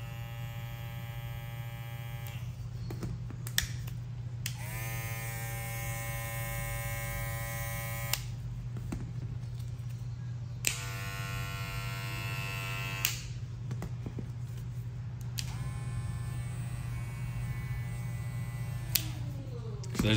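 Electric hair clippers run at high speed with a steady mains-like buzz and hum, their tone shifting in several stretches as different clippers are switched on and off, with occasional clicks and nobody talking.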